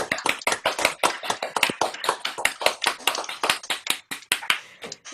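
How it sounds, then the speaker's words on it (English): A small audience at a piano recital claps briskly, with individual hand claps standing out sharply in a quick, uneven rhythm that thins slightly toward the end. "Let's give everyone a round of applause."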